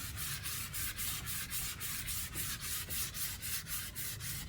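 Wooden chairs are sanded by hand before varnishing, a loud, close, rhythmic scrubbing with steady back-and-forth strokes and no talk.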